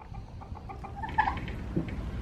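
A chicken at a park gives a few soft, short clucks close by over low background noise, with no talk.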